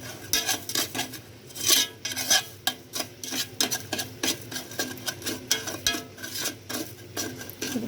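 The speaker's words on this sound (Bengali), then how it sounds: "এভাবে আস্তে আস্তে নাড়াচাড়া করতে হবে যতক্ষণ পর্যন্ত লাল না হয়ে আসে" A utensil scrapes and rubs against a pan while sugar is stirred slowly for pudding caramel, a steady run of close, gritty scraping strokes in an uneven rhythm with no talking.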